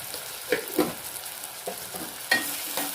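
Tomatoes softening in a hot pan make a quiet, even sizzle, punctuated by several sharp taps and scrapes of a spoon stirring them.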